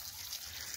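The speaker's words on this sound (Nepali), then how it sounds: "अहिले चाहिँ म ठ्याक्कै खुर्सानीमा पानी चालिरहेको छु साथीहरु" Water pours onto chilli plants in a hot, dry garden, a steady soft trickle and splash running unbroken through the short moment, fairly quiet and close.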